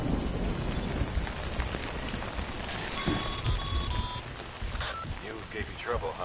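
Rain in the video game Death Stranding falls as a steady dense hiss throughout, with a brief tonal beeping chime partway through and faint voices under it.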